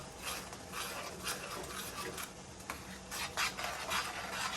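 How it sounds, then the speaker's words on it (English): A thick, creamy oyster mushroom stroganoff is stirred in a pan, producing a continuous soft rubbing and scraping of the utensil with faint sizzle, moderately quiet and free of talk. "And we stir that in there."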